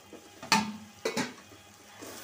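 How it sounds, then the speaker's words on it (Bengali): Lentils (dal) sautéing in a pan, heard as a quiet, low sizzle under two brief metallic scrapes of a spoon stirring against the pan, with no talking. "আগে ডালটা কষায় নিই।"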